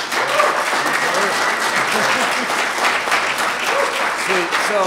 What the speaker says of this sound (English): give a round of applause for all these guys